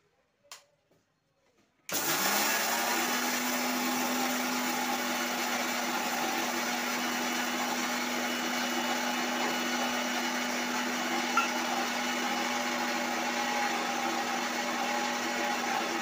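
A mixer grinder pulverizes roasted, cooled coriander seeds into powder, starting abruptly after a couple of seconds of near silence and then running as a loud, steady, close-up whir with no talking over it.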